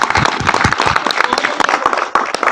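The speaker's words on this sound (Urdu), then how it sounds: "آپ بھی ایک بار تالیاں بجا کے استقبال کیجیے" Lively audience applause at a mushaira poetry gathering: dense, sustained clapping from a crowd, close and loud throughout.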